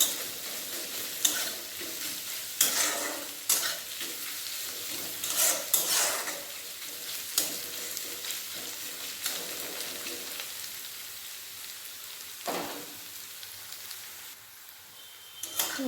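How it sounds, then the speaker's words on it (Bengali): Sliced onions fry in hot oil in a pan over high gas with a steady close sizzle, broken by intermittent scraping stirs of a spoon against the pan, and no voices. "এরপর গ্যাসটা বাড়িয়ে নেব পেঁয়াজটা ভালোভাবে ভেজে নেবো"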